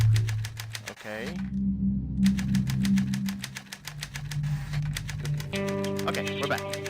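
Steady, rapid typewriter-style key clacking from the video game Dead Secret runs almost without a break. A brief pause falls early on, under a continuous low background tone with music-like layers.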